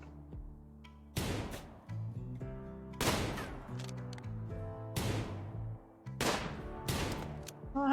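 Colonists shooting in Rimworld: a string of separate gunshots, six or so sharp cracks with quick decays spaced about a second apart over steady game music, no talk.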